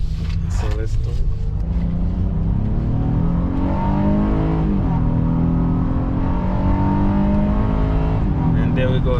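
A 2021 Honda Passport V6 SUV accelerating hard, engine note climbing through gear changes, loud and steady from inside the cabin, with a voice talking over it.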